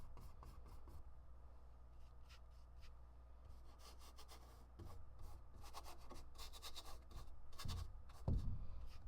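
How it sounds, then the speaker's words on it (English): Paintbrush rubbed back and forth on a painted surface to work off excess paint for a rustic texture, giving soft repeated scratchy strokes that grow louder toward the end. "Just getting all the excess off by kind of rubbing my brush back and forth and getting some nice rustic texture."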